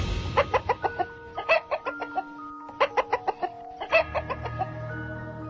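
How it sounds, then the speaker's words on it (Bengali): A chicken clucks in rapid repeated bursts, loud and close, each run of sharp clucks broken by brief pauses, over a quiet night-time background. "কোত্থেকে একটা কক কক কক শব্দ আসছে।"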